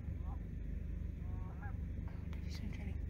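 Geese in Yellowstone's Hayden Valley give a few scattered honks, faint and distant, over a low rumble of wind and background noise.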